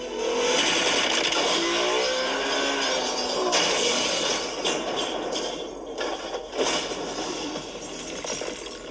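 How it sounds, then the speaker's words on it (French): Alfa Romeo in a car chase leaving the road and crashing into a ravine: roaring engine and tire noise under dramatic film score, followed by scraping, tumbling impacts and debris. "La voiture quitte la route et s'écrase dans le ravin."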